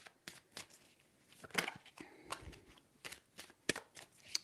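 Tarot cards being shuffled in three distinct bursts of quick riffling, each a brief crisp flutter of card edges, close and clear against near silence.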